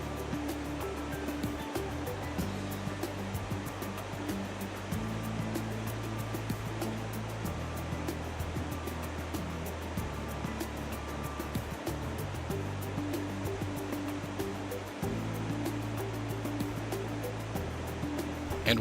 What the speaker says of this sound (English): We saw Firehole Falls